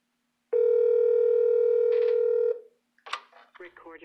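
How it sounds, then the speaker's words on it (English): A small business phone system gives a loud, steady electronic tone for about two seconds, then after a short gap a recorded voice prompt begins. "After pressing record, the phone will ring and you can pick up to record your message."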